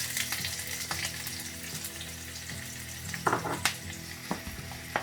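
A whole red onion sautés in oil in a pan, sizzling steadily throughout. Several sharp scrapes of stirring come near the end.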